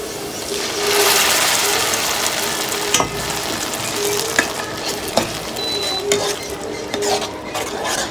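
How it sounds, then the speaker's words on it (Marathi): A paste of ginger, garlic, tomato and cashew sizzles steadily in hot oil for a dhaba-style matar paneer, with a spoon stirring and scraping the pan and several sharp metallic clinks scattered throughout. "आता आपली पेस्ट तेलामध्ये चांगली भिजली आहे"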